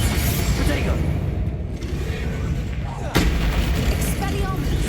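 Bombarda and Confringo explosion spells go off in Hogwarts Legacy gameplay, giving heavy booming blasts with a sharp burst near the middle over a rumbling, noisy battle backdrop, while a voice speaks over the action.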